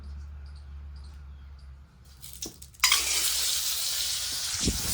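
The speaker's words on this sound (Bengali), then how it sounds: "এবার এটাকে হালকা খুন্তি দিয়ে নাড়াবো, নাড়িয়ে এটার মধ্যে আমি দিয়ে দেবো দুটো ডিম।" A spatula scrapes and stirs eggs in a hot pan, a few soft scraping taps giving way to a sudden loud, steady sizzle of frying that continues close up with occasional clinks.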